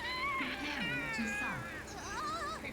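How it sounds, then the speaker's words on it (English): A cat meows repeatedly in Yakuza: Like a Dragon, a string of rising and falling wavering cries that are fairly close and clear, with faint background game sound. "There's a cat."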